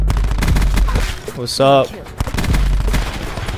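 Rapid gunfire bursts from a first-person shooter video game crackle loudly and close, with sharp repeated shots clustered around a brief voiced exclamation from a player.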